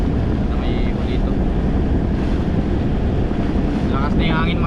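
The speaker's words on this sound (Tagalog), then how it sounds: "Lakas na yung hangin mga idol, ano, salatan yung hangin." Strong wind roars continuously across the microphone in a loud, unbroken rumble, with faint voices barely audible beneath it.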